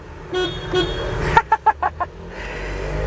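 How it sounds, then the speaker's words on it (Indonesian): Horn of a 2024 Nissan Serena e-Power: two short single toots, then a quick series of four or five sharp, thin honks, fairly close over a low background hum. "dia klaksonnya tidak mencerminkan wibawa dari mobil ini"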